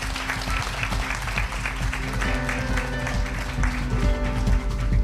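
Audience applause closing a Pusan National University 80th-anniversary guest lecture, a dense, steady clapping that fills the room for the whole stretch, with a few faint voices mixed in.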